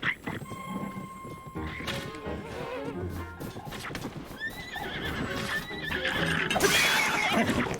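Horse in the Tears of the Kingdom video game neighing and whinnying with clip-clopping hooves, alongside crashing and whacking combat sounds that grow louder toward the end.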